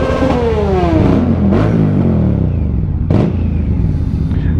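A MV Agusta motorcycle engine revving hard up close indoors, loud sustained roar with rising and falling pitch sweeps and two sharp blips of the throttle, with no voices.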